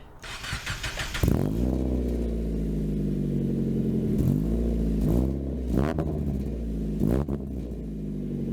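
An NB Mazda Miata engine cranks and catches, then idles steadily up close, with a few brief revs rising and settling back to a low rumble.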